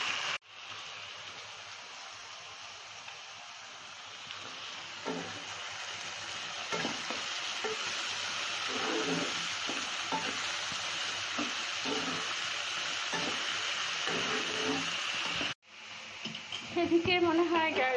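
Potatoes, onions and chillies fry in a pan with a steady, moderate sizzle and repeated scraping stirs, a brief cut near the end before the frying resumes more loudly, with some speech mixed in.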